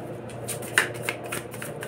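Tarot cards are shuffled by hand close to the microphone, a soft, brief riffling flutter with a couple of light snaps.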